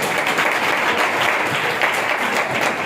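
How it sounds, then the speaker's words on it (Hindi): Dense, steady applause from a large audience fills the whole stretch, close and continuous with no voices above it. "जोरदार ताली बजा दे"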